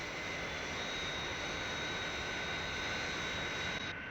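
Fireflash aircraft jet engines roar steadily in flight, a dense, even wash of broadband noise with a high whine running through it, sustained throughout before slightly dropping off at the end.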